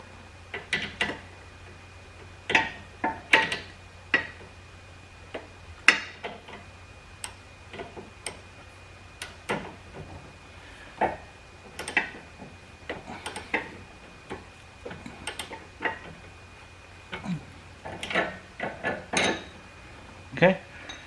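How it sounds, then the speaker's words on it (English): Ratchet clicking in irregular bursts while tightening a sway bar end link nut on a Dodge Grand Caravan, sharp close metallic ticks with brief pauses between strokes. "Now I'm going to switch over to a socket, or a ratchet, and we just want to make sure this is good and tight."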